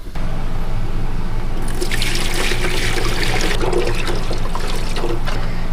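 Water pours steadily into the tray of a Ridgid 7-inch table top wet tile saw, a loud continuous splashing trickle that swells partway through and runs alone.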